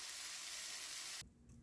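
Mixed vegetables frying on a grill, German-style shashlik, give a loud, steady close sizzle and hiss that cuts off abruptly near the end, leaving quieter clatter.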